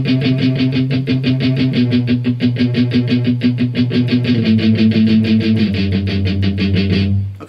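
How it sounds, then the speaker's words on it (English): Heavily palm-muted electric guitar chugs through a song's breakdown, steady rapid all-downstroke eighth notes with tight, loud, chunky attacks and a shifting low root, ending in a brief ringing chord. "So really heavy palm muting through the entire thing there then."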